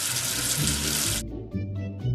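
Water pours strongly from a tap for about a second, a loud hissing rush that cuts off abruptly, followed by faint drips and gurgles.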